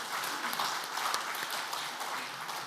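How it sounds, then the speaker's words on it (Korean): A Korean church congregation at a men's fellowship prayer meeting claps in thanks to the pastor after his sermon, a brief, steady burst of applause with some sharper individual claps standing out. "은혜로운 말씀을 전해주신 목사님께 감사의 박수를 드리겠습니다"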